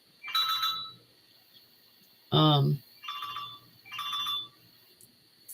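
A phone rings in short repeated electronic bursts at moderate volume in a room, with a voice briefly breaking in between the rings.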